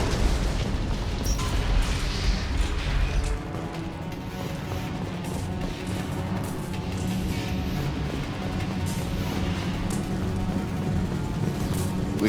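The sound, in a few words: heavy gunfire and explosions in video game Mass Effect 2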